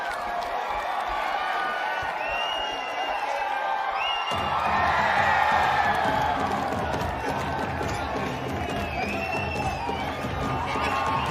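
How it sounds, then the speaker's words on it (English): Crowd at a men's kabaddi final cheering for the Virudunagar team, a continuous dense roar with whoops and scattered clapping that swells louder midway and holds steady, voices blending into the din. "Now the crowd is cheering for the Virudunagar team, hoping for them, rooting for them to climb up the scoreboard."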